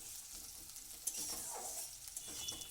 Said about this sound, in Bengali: দেখুন পেঁয়াজটাকে একটু ভেজে নিয়েছি।